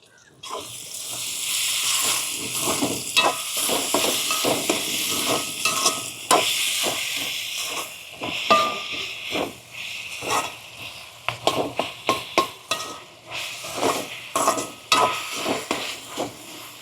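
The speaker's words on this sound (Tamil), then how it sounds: "தக்காளி பழம், வெங்காயம், பச்சை மிளகாய் எல்லாம் போட்டு நல்லா எண்ணெயில் வதக்கியாச்சு" Tomato, onion and green chilli are stir-fried in oil for a tuna curry, with a soft sizzle under repeated close scraping and clattering strokes of a spatula against the pan, which grow busier and more uneven toward the end.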